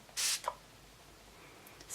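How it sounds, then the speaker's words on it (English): A MAC Fix Plus setting spray is misted into the air with one short hissing burst, followed by a quieter trailing spritz and a faint hiss near the end. "spraying into the air and then letting it dry on my face"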